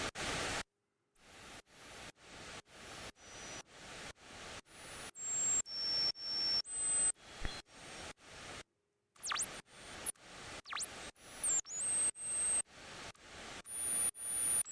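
Noise layered onto short synth notes from the FMQT FM synth app on iOS, a steady run of hissy, static-like bursts with bright high tones stepping in pitch, loud and close with brief gaps of silence.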